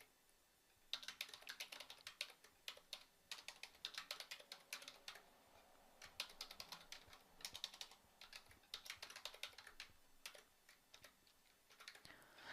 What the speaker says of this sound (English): I am actually just going to type this information in.